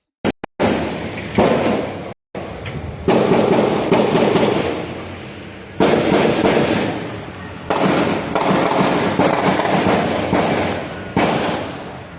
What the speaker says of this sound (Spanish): estos grupos armados ilegales están disparando en contra de la población civil y se están enfrentando